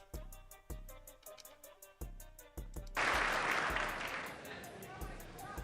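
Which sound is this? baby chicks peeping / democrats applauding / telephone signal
democrats applauding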